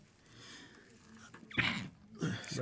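Two sharp, sudden bursts of breath close by, like a sneeze, following a quiet stretch of faint background noise.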